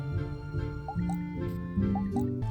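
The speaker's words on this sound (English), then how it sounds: "Of course, once the seeds are planted, we gotta water them." Watering freshly planted seeds in Moonstone Island, heard as a series of light cartoon drip and splash blips over an ongoing melodic game music loop.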